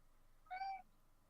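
A single short cat meow, faint and fairly close, rising briefly out of a quiet room background with no talk.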